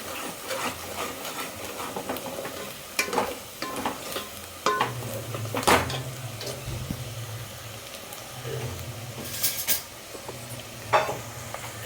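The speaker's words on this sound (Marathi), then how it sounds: "सगळे मसाले घालते मी याला चांगलं ढवळून घ्यायचं" Masala being stirred into a crab curry in a pot over lightly browned onion, with a steady soft sizzle and repeated scraping, clattering spoon strokes against the pan, fairly close and without speech.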